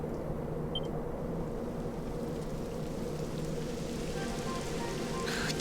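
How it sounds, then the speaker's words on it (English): Steady rain in the fantasy role-playing game Dragon Quest XI, a broad even hiss with soft patter holding at a constant level throughout, a faint brighter rise near the end, with no voices. "It would have to go and start raining, wouldn't it?"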